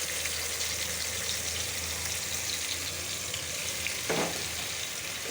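Ginger garlic paste, turmeric, chili, coriander powder and salt frying in hot oil, a steady close sizzle throughout with one brief stirring clatter near the end.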